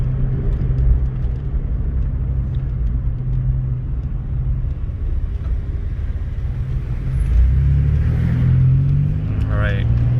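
An S10 Blazer rolling slowly over a speed hump, a steady low engine and road rumble that swells into a heavier thump and surge near the end, heard close from inside the vehicle.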